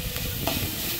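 Ginger garlic paste sautés in a pan for spicy masala pasta, a steady close sizzle and frying hiss with light stirring.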